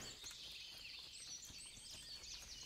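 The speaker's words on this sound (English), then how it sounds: "the hundreds of birds that can't be seen, that are making noise everywhere" Unseen birds in the Kingdom Come Deliverance game world: dense, faint chorus of high chirps and tweets overlapping continuously, with no talk.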